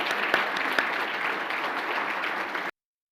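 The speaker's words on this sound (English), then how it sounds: "please join me in an applause for Gina" A conference audience applauds a keynote speaker with dense, steady clapping that keeps an even level for under three seconds and then stops abruptly.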